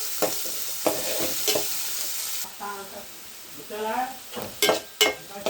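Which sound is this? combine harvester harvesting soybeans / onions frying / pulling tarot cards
onions frying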